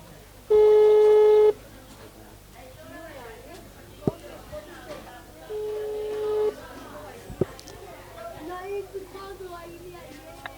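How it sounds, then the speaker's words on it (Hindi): A telephone dialing a number goes unanswered, giving two separate long electronic tones, the first loud and the second fainter, with clicks and people talking in between. "दोबारा से डायल कर दिया मैंने नंबर"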